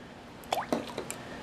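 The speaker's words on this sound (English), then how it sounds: "you're going to add the water" Water is poured into a small bowl to make a marinade, giving a few brief wet splashes and drips up close at moderate volume, with no talking.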